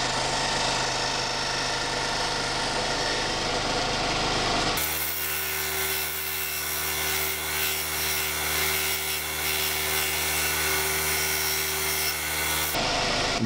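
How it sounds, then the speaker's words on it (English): A saw cuts into the teeth of a wooden gear for a clock wheel, the steady rasping strokes loud and close, growing denser and harsher midway before easing off near the end; no voices. "I'll go around and start cutting on the other side of the tooth and take out the root of the tooth."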